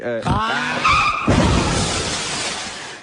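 Car crash sound effect: a short vocal lead-in, then a loud tire skid and screech that breaks into a harsh crash and scraping noise trailing off over about two seconds.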